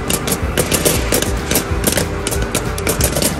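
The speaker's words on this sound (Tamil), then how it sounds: "சூப்பராக வெடிக்குது பாருங்கள்." Spicy homemade popcorn kernels burst in a hot pan in a dense, loud, rapid crackle of overlapping pops, like fast gunfire, running without a break.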